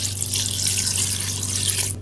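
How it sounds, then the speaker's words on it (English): Warm water pours steadily from a tap into a blender jar holding fried onions and soaked cashews, a continuous close splashing stream lasting two seconds. "and add some warm water"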